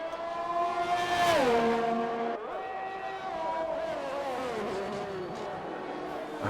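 A Ferrari race car engine in a racing video game drones with a rising and falling pitch as it shifts through gears, steady and fairly loud, with commentary talking over it.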